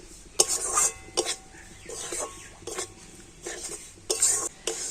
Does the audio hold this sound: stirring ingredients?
yes